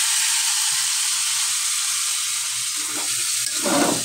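Adobong chicken sizzling in a pan just after soy sauce is poured in, a loud, steady close-up hiss and crackle of frying with a brief scrape of stirring near the end.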